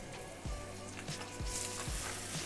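Chicken quarter legs searing skin side down in a hot pan, giving a steady close sizzle and crackle with a few sharper pops, fairly quiet and with no talking.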